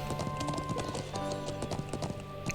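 Horse hooves clip-clop steadily at a riding pace in the Trails of Cold Steel video game, a dense rhythmic patter over constant game music and ambience.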